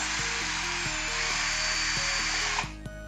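An electric screwdriver whirs at high speed while its bit spins a stripped screw loosely in wood, a steady loud motor whine with stepped pitch shifts and clicks, stopping abruptly near the end, with no voices.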